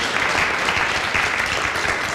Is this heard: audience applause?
yes